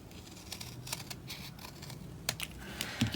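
Scissors cut paper for a planner page with soft snips and rustling that carry on as an irregular patter for about three seconds. The sound is faint and close, and no one speaks.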